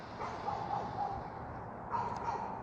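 Faint, distant dog barking in the background of an outdoor spot, a few muffled yips repeating under steady ambient noise.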